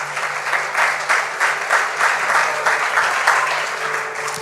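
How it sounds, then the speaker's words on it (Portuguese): A church congregation claps together, with loud, dense applause swelling in slightly rhythmic waves and filling the room for several seconds, with no talking over it. "Você pode aplaudir ao Senhor por essa palavra?"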